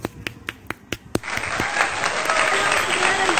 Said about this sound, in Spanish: ¡Aplausos para Kevin!